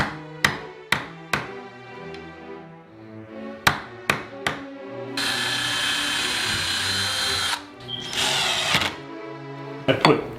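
Longer door screws are driven through a flat door jamb into the stud behind with a power drill: several sharp close knocks and taps, then a sustained loud drill whine for a few seconds, a second shorter burst, and more taps near the end.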